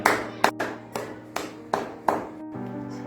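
A church congregation claps together during a sermon, about six sharp claps in a steady beat over a sustained musical tone.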